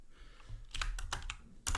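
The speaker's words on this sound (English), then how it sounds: "So here we just type in a summary" Brief burst of typing on a computer keyboard, a few close, quick clicks in two short clusters with light background noise and no voices.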